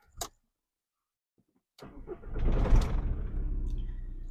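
Old Volkswagen Beetle with a diesel engine starting: a short click, a pause, then the cranking catches and the engine settles into a steady low idle, close by with no talk.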